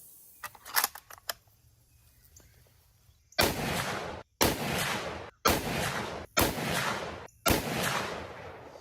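Five loud, evenly spaced rifle shots from a Ruger Precision Rifle in 300 Win Mag, fired with and without a CMMG Zeroed 30 suppressor. Each blast is followed by a short decaying echo, and a few light mechanical clicks come before them.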